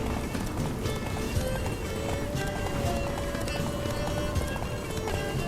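Roach, Geralt's horse in The Witcher 3, gallops in a steady, dense stream of hoofbeats under continuous game music and ambience, loud throughout with no pauses.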